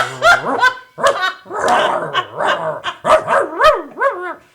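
A man imitating a barking dog, a close, loud run of rough barks, yips and growls delivered in quick irregular bursts.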